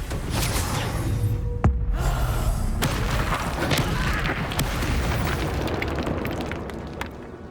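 Confringo fire spell blasts in Hogwarts Legacy, a dense run of booming explosions and crackling bursts over roughly eight seconds with game effects layered throughout, loud and continuous.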